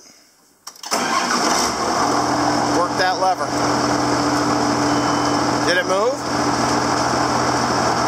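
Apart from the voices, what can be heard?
John Deere 7410 tractor engine starting and running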